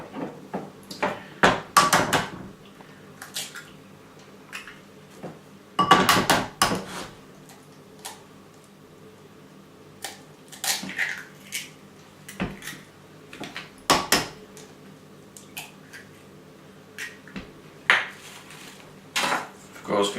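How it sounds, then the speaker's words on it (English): Eggs are cracked over prepared peppers, with sharp knocks of shell against hard kitchenware, clatter of dishes and utensils, and bursts of busy handling between quieter moments. "Now I'm just gonna break the eggs"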